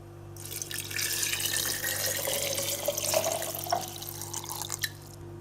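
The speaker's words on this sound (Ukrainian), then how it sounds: "Горіхи я залив водою" Water pours steadily into a glass jar holding walnuts, a bright splashing and gurgling stream that starts abruptly, runs for about five seconds and then cuts off, close and fairly quiet over a low electrical hum.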